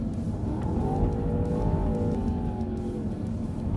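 A 2025 Land Rover Defender OCTA, its most powerful version, accelerates on a smooth gravel road, the engine note rising in a sustained close-up drone over steady tyre and road rumble.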